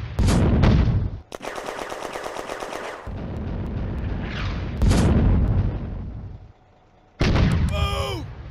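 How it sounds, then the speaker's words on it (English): Distant German artillery barrage in a 1940 Hill 112 war video game, heavy booming blasts and rattling bursts of gunfire in loud repeated volleys, broken by a brief quiet gap before another sharp burst. "In the distance, the German guns boom out their barrage"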